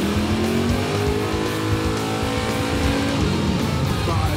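A 1972 Chevy Luv making a drag racing pass, its engine roaring loudly and continuously with rising revving tones and hints of tire squeal at the strip.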